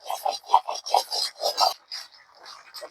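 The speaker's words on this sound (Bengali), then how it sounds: "ভাজি করা জিরা গুলো আমি এখন গুঁড়ো করে নেব" Roasted cumin seeds are ground into powder for a pumpkin and drumstick dish, giving a run of close, rhythmic raspy grinding strokes, about eight in quick succession, then fainter scraping that trails off.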